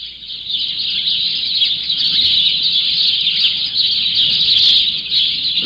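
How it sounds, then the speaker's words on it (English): Dense chorus of birds chirping and singing on a city morning, a steady bright twittering that fills the scene continuously, loud and close with a low traffic rumble beneath, recorded in 1950s New York. "At 7 o'clock, the birds arrive."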